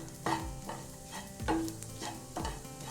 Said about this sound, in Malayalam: ഇപ്പോൾ 2-3 മിനിറ്റായി വഴറ്റാൻ തുടങ്ങിയിട്ട്.